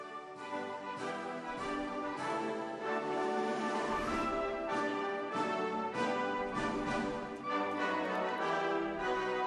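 A Chinese military band plays the stately anthem melody "The East Is Red" at a steady tempo, brass full and resonant, with sustained harmonized notes.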